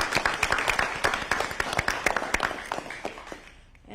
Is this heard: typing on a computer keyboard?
no